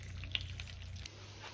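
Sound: meatballs frying in a pan

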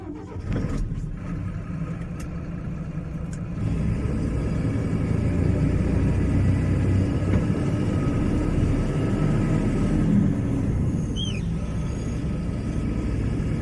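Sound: twelve-tyre truck driving off

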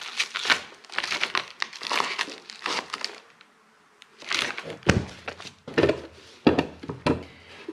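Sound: opening a stitched parcel package

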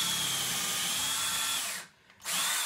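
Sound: drill boring a hole in a box elder log at the lathe

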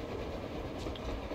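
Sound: train passing on the surface in Metro Exodus video game

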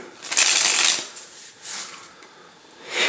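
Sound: handling new playing cards from deck

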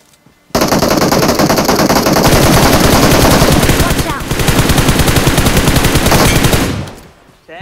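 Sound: gunfire in battle royale video game

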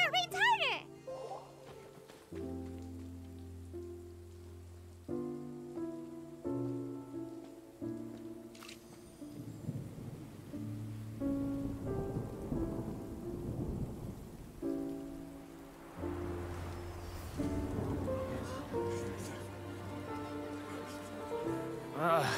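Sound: rain and thunder in Genshin Impact video game

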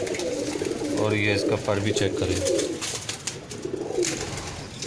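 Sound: Nyola breed pigeons cooing

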